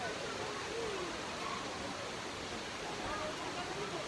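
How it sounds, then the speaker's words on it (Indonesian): Mino waterfall in Japan roars as a steady, broadband rush of falling water, continuous and fairly close, with no clear voices over it. "itulah air terjun"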